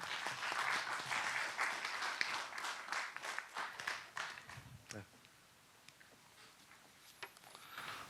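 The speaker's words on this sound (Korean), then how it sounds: "박수로 함께 환영해 주십시오." An audience at a youth policy festival applauds to welcome a speaker, dense clapping that fades after about five seconds, with a few scattered claps following.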